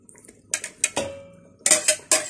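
Clinking and scraping of a utensil against a pot while stirring a cooked flour mixture for chicken nihari, in several short bursts, close by, with brief pauses between strokes.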